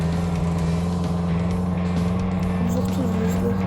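A car engine in a video game garage drones steadily and loudly with a constant low hum and faint rising pitch toward the end, no distinct revs, with no voices.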